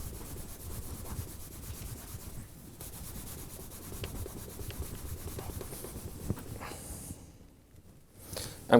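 Beeswax being rubbed into a leather item to repair it, a soft, continuous friction rub with a fairly faint, even texture that trails off near the end. No one speaks.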